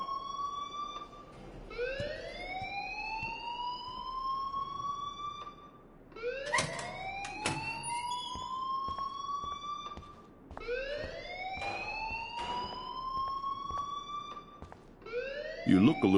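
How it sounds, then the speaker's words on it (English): A rising, wailing alarm sounds in repeated sweeps of about four seconds each inside the Life is Strange video game, steady and prominent over a low background. "please turn off that alarm since that's your job"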